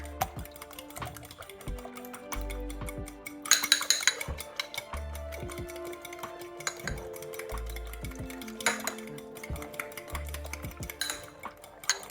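A spoon scrapes and clinks around a pan while food with salt and spices is stirred, irregular soft taps and scrapes over a low hum, fairly quiet and close.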